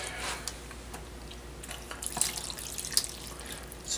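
Tap water runs steadily into alfalfa sprouting trays, a continuous close splashing stream with a few brighter drips and spatters, no talking over it.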